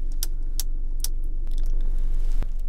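Air vents in a Mercedes C-Class cabin click as they are adjusted: a handful of sharp, close clicks at uneven intervals over a steady low interior hum.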